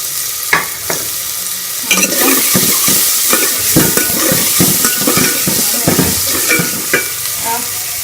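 Onions frying in a pan for keema rolls, with a steady hiss of sizzling oil broken by repeated scraping and stirring strokes of a spoon against the pan, close and fairly loud throughout.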